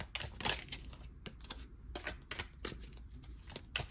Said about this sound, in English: I'm going to shuffle on camera to get any additional messages